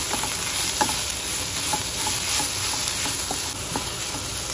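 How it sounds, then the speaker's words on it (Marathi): Ginger garlic paste frying with onions in a pan for aloo gobi, giving a continuous close sizzle and hiss with light, scattered spoon taps and stirring, and no talking. "1 टीस्पून भर जिंजर गार्लिका पेस्ट एड करता आनी ताका बरें भाजून घेया"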